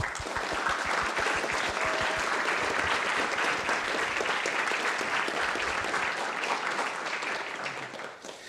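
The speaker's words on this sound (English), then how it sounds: "So everyone here, give yourselves a big hand of applause." Sustained applause from a conference audience at a privacy-technology symposium's awards and closing session, a dense, even wash of many hands clapping that holds steady and begins to thin out near the end.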